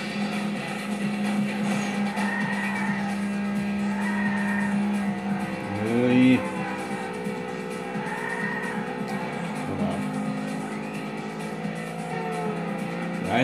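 A racing car boosts in the video game Burnout 2, a steady engine whine with tire squeals and skids, loud and continuous, with a brief louder burst midway.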